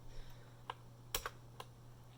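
Several sharp key presses on an Epomaker Skyloong SK61 keyboard, isolated clicks spaced irregularly with a quick double tap in the middle, close and fairly quiet over a low steady hum.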